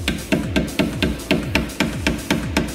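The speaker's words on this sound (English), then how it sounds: "we're gonna drive the retainer pins out of the caliper" Hammer blows driving retainer pins out of a Challenger Hellcat brake caliper, about ten sharp metallic strikes in a steady, fairly quick rhythm, close and loud with no talk.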